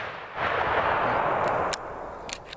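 Big guns fired at a shooting range: a heavy, booming report swells and rolls out over a second or so, followed by a few sharp, fainter distant cracks, with no voices.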